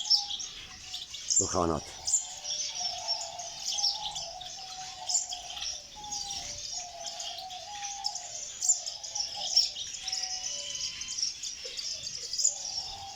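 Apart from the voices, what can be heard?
birds singing in an Iraqi bird reserve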